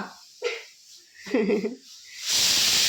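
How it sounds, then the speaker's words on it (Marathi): Steam hisses from a pot of cooking rice and tea, with faint scattered bubbling and clinks first and then a loud, continuous hiss that rises near the end. "इथं भात शिजायला लागलाय इकडं चहा शिजायला लागला"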